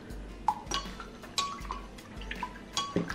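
A spoon clinks and scrapes against the sides of a container as water and glycerin are stirred, with several sharp metallic taps spaced irregularly, fairly close.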